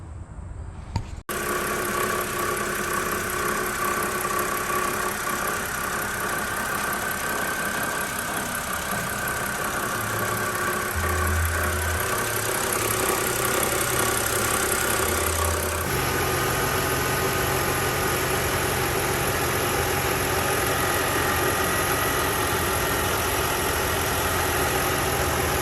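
A BMW E92 325i with the N52 engine idles steadily at close range for two long stretches, first with the idler pulley's rattle present and then after its replacement, a continuous even hum with no speech.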